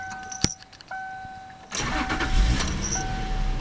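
A 2002 Subaru Outback's 3.0 H6 flat-six cranks and catches, then settles into a steady idle rumble close by, preceded by a few clicks and a faint electronic chime.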